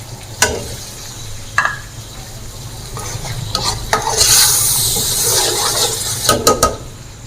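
Tomato paste is stirred in a pan for beef kofta curry, with a soft sizzle and frying hiss broken by several sharp spoon scrapes and clinks against the metal.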